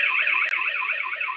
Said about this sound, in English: It means that in case, let's say, we do something like this, and we get an alarm